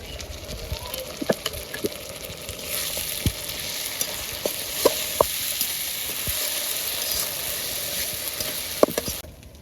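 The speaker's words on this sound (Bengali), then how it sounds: "আদা ও রসুন বাটা দিয়ে একসাথে ভালোভাবে কষিয়ে নিব" Ginger and garlic paste with onion and spices sautés in a pan, a steady mid-level sizzle punctuated by sharp spatula knocks and scrapes, then cutting off at the end.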